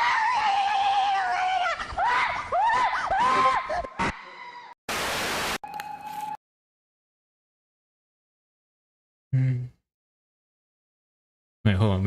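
People scream in a comedy clip being played back, giving several seconds of loud, wavering, high-pitched shrieks that sound almost like whinnying. Short bursts of noise and stretches of silence follow.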